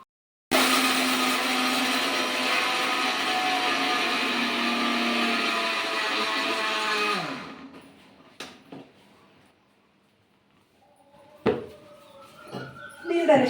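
An electric mixer grinder whirs loudly and steadily while grinding chutney, then winds down and stops, followed by a few clinks and a voice nearby.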